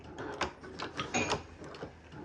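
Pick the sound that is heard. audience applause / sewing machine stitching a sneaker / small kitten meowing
sewing machine stitching a sneaker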